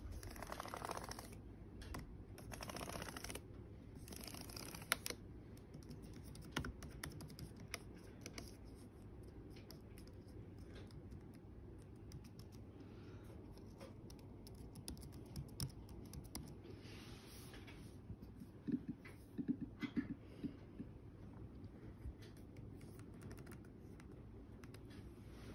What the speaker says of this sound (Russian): Сейчас проверим клавиатуру.